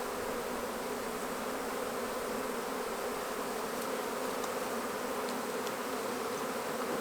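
Feral honeybees being extracted from a hollow produce a dense, steady buzzing that fills the whole stretch, close and continuous with no voices.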